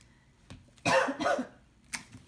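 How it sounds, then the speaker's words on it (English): A short burst of harsh coughing, two rough hacks close together followed by a smaller cough, fairly near and otherwise quiet. "I still have this stupid cough."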